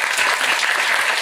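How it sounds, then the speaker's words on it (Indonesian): Audience applause at an Islamic religious gathering, dense steady clapping from a crowd, loud and continuous throughout the short stretch. "Tepuk tangan untuk Anda semuanya."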